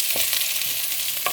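Onions sautéing in hot oil in a home kitchen, a steady close sizzle with a few scraping stirs of a spatula over the short stretch.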